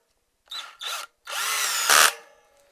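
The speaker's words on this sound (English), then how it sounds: "For speed, I use a power drill with the Torx head in there already." A power drill fitted with a Torx bit drives bolts on a mountain bike: two short whirring bursts, then a longer, louder run that rises at the end before stopping. Close and clear, with no voices.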